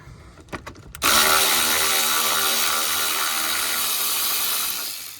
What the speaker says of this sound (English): we'll get these 2 10mm bolts on the reservoir. My electric wrench is starting to take a crap.